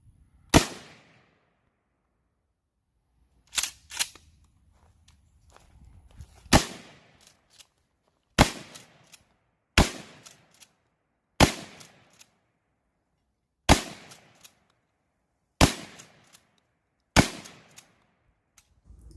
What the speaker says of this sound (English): While I had a blast shooting it, Junior had a good time with it also.